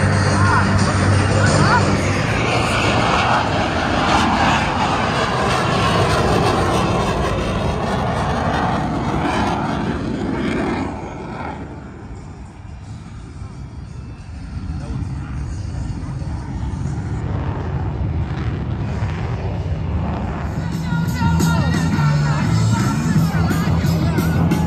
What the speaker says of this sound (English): Blue Angel number 6 executes a precise slow transition and pitches up vertically